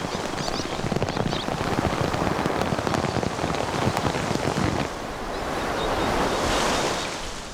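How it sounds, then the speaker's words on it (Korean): Heavy typhoon rain pours over the West Sea while surf crashes and churns. The roar is dense and continuous, with rain spatter dominating at first and a swelling rush of waves and wind later. "서해에 태풍이 몰아쳤다"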